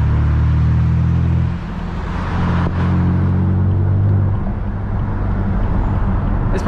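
A BMW M4 fitted with an AWE track exhaust cruises at night in its quietest valve mode, giving a loud, steady low rumble with a slight drop and swell in engine note, no talking over it.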